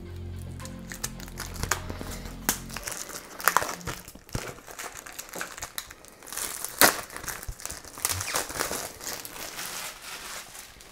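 Paper wrapping crinkles and crackles as a boxed game master screen for the German tabletop RPG Kult: Die Verlorene Göttlichkeit is unpacked, with steady close rustling and sharp crunches throughout, plus a low hum at the start.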